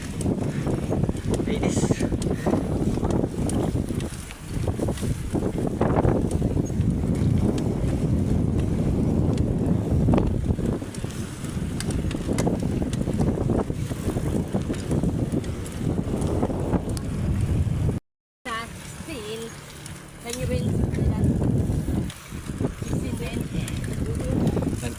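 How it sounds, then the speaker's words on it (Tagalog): Strong wind buffets the microphone outdoors near a view deck, a loud continuous rumbling roar with a brief dropout, while people talk over it. "Lakas ng hangin."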